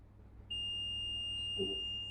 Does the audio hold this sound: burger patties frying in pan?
no